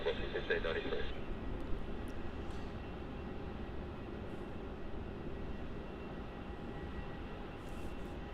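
A Qantas Airbus A330 jet taxiing at Melbourne Airport toward runway 16, heard as a steady low engine rumble and whine from a distance, with a brief radio-like chatter at the start.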